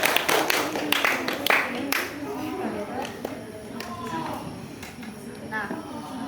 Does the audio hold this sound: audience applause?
yes